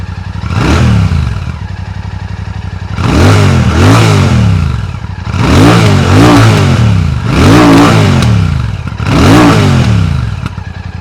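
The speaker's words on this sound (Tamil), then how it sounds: "ஸோ இப்போ வந்து நம்ம இந்த பைக்கோட எக்ஸாஸ்ட் நோட் எப்படி இருக்குது அப்படிங்கிறத பார்த்துடலாம்" A Royal Enfield Classic 650 Twin with twin exhaust pipes, revving repeatedly: four loud, close throttle blips that rise and fall over a steady idling thump, with no voices.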